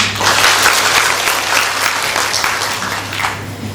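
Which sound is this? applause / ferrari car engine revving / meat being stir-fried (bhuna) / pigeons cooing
applause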